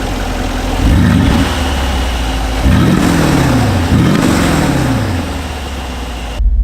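A Brabus G700 Widestar Mercedes G-Wagon's engine idles with a deep rumble, then blips through three sharp revs that rise and fall, loud and close, with a short burst at the very end.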